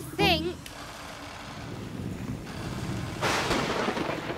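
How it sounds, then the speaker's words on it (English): A cartoon thunderstorm in pouring rain brings a steady wash of rain and wind with a rumbling swell of thunder, heard under a character's voice and a brief whooshing effect. "It's pouring with rain."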